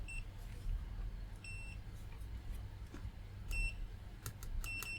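A handheld multimeter in continuity test mode gives several short, thin electronic beeps at irregular intervals. The beeps are fairly faint and sit over a low background hum.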